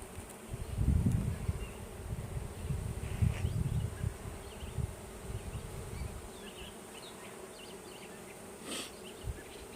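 Honeybees buzz around a big open hive during a full inspection, a dense close droning hum that swells loudly early on, then eases to a steadier, fainter background buzz.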